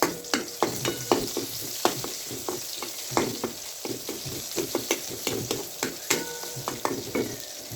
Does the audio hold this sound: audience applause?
no